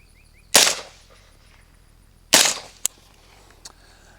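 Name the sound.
suppressed gunshots from rifle with JMac Customs Banka suppressor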